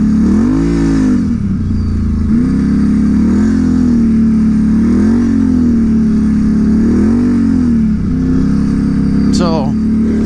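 A Can-Am Renegade XMR 1000 ATV fitted with an aftermarket exhaust revs loudly and close up, its engine note rising and falling in several repeated throttle blips over a steady idle rumble.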